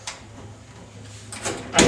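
A slap door on a deer handling box swings shut with a loud, close bang at the end, preceded by quieter rustling and shifting noises.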